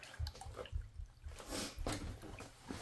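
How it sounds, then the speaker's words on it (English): Water runs quietly and unevenly from a tap-like source feeding an HPA air compressor's cooling setup, a faint splashing trickle with soft drips throughout; no speech. "Water's running."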